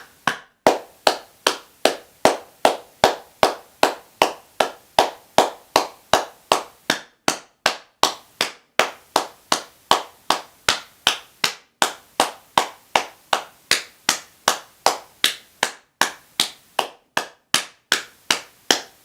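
Hands clap steadily against the soles of the feet during a mindful exercise session, producing a long run of about fifty crisp, evenly spaced slaps at a brisk, regular rhythm, moderately loud and close, with no talking.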